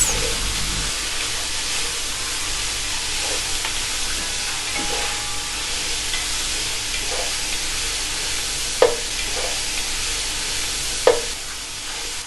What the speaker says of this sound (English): Add onion. Now fry it for 2 minutes.